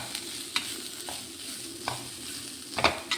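Grated coconut being stirred into a curry cooking in its own juices, with soft sizzling under a few distinct scraping stirs at a steady, unhurried pace, close by.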